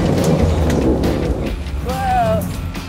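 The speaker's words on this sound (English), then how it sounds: "We're going to get wheel spin going up in here." A 4WD vehicle climbing a rough track in low range growls along with its engine revving and wheels spinning, loud and close, while people talk over it and one voice rises in a short exclamation.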